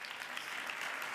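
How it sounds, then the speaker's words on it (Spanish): Sustained audience applause at a commemorative public event in Spain, a dense even clatter of many hands clapping steadily throughout at moderate level. "Un fuerte aplauso para ellos."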